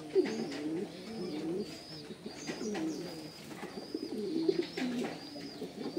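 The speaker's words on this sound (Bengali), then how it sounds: "অনেক সুন্দর একটা কবুতর" A pigeon coos in a repeated, throaty run of soft rolling calls, close by and clear with no voices over it.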